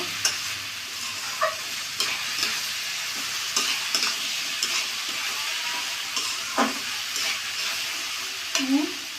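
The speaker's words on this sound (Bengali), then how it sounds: "মুগ ডালটা দিয়ে একটু নাড়াচাড়া করে নেব।" Mung dal being stirred with bottle gourd in a hot pan: a soft continuous sizzle broken by repeated scraping strokes of a spoon, fairly close and moderately quiet.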